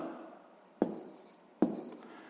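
A pen writes an answer by hand on paper, with a soft continuous scratching broken by two sharp taps as strokes begin, quiet and close.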